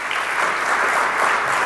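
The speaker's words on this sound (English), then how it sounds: "Can we all give them a round of applause," Audience applause at an AES professional meeting, a dense, steady wash of many hands clapping together, loud and sustained throughout with no voices over it.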